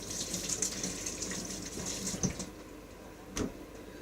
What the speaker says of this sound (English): let's just wash my hands